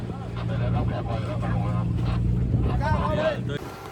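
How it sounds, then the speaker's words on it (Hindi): A speedboat runs over the sea, its engine drone and wind rush steady and close while a person talks over the noise throughout. "and this was our first speed boat"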